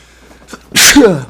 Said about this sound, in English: it sounded like a wet sneeze